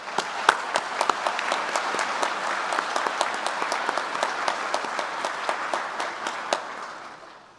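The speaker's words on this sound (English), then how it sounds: "I'd ask we give them a round of applause" Teachers receive a sustained round of applause from the audience at a medical college commencement ceremony, clapping steady and fairly even for several seconds with a few sharp individual claps standing out, then tapering at the end.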